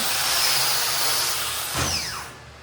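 A power tool fitted with a wire wheel clears weld spatter from a steel table, a loud steady whirring grind close by that winds down at the end, no talk.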